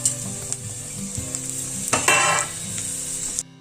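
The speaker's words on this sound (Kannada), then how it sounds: "ಎಣ್ಣೆ ಹಾಕೊಂಡು ಸ್ವಲ್ಪ ಫ್ರೈ ಮಾಡ್ಕೊಂಡಿದ್ದೀನಿ." Spices fry in hot oil in a pan for rasam, a steady close sizzle with a few scrapes and stirring clatters, one louder burst of crackling partway through, and no voices.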